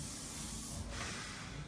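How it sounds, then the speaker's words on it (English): Infinium hairspray sprayed onto a freshly cut graduated bob, a steady close hiss from the aerosol can that holds for nearly two seconds with a slight shift midway. "So a little bit of hairspray."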